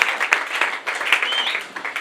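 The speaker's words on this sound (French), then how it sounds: "Acclame très fort pour la parole." A church congregation at a prayer service for peace applauds loudly and continuously, dense clapping from many hands filling the room.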